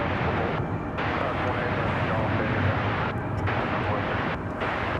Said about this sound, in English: FedEx landing on this side.